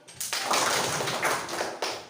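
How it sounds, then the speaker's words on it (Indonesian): A room of primary-school pupils in a combined two-grade classroom claps one round of the Indonesian scout clap, a dense flurry of many hands that starts abruptly and fills the room for about two seconds. "Tepuk pramuka 1 kali"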